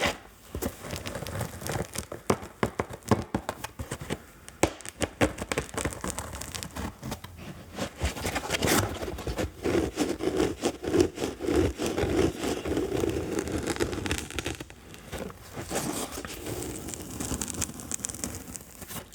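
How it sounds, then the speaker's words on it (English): Fingernails scratching a surface close to the microphone: dense, continuous crackly rasping with rapid ripping and tearing textures, steady in level throughout with no talk. "this actually feels really good to scratch"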